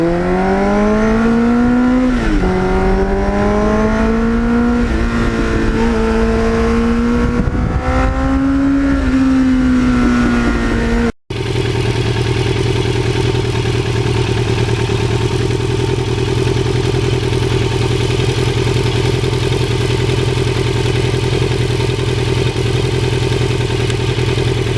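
A 1983 Suzuki XN85 Turbo motorcycle engine with a Muzzy aftermarket muffler revs up and down through rising and falling pitches, then settles into a deep, throaty steady rumble from the exhaust.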